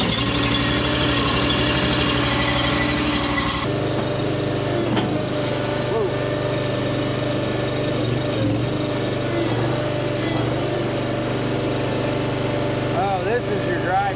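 A compact barn-cleaning loader's small engine starts and runs steadily nearby, a constant mechanical drone with a shift in tone partway through, while people talk over it.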